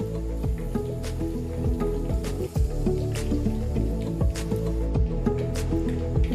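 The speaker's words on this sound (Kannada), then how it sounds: "ಇಲ್ಲಿ ಸಾಸಿವೆ ಚಟಪಟ ಅಂತೊಳಗೆ ಬೇವು ಸೊಪ್ಪು ಹಾಕಿದೆ" Mustard seeds and garlic sizzle and splutter in hot coconut oil for a crab curry, with a steady stream of close, rapid little pops and crackles over a soft fry hiss.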